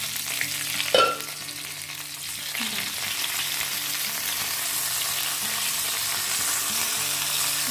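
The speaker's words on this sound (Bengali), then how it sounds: "বেগুনটা সুন্দর ভাজাও হয়েছে, আবার নরমও হয়ে গেছে" Stuffed brinjal sizzles steadily in a frying pan as it cooks, with a brief louder crackle and clatter near the start as a piece is turned, then an even, continuous hiss with no one speaking.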